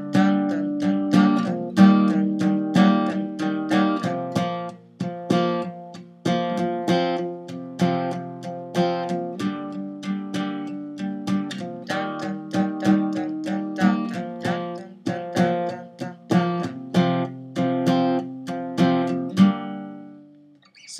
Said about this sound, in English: the strumming pattern, from what I can kind of tell, sounds something like this.